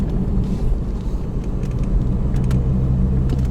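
A car drives along a rural road, braking before bends and accelerating through them; steady, loud engine and road rumble runs throughout with no speech.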